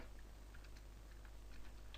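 Steady typing on a computer keyboard while entering a song name into a download page, with scattered key clicks of varying loudness throughout over a low, constant background hum.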